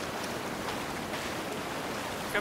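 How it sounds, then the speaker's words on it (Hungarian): Steady rushing water pours continuously in Sons of the Forest, a broad even wash of splashing as blood is rinsed off, with no voices. "Mossa a vért a víz, Miki."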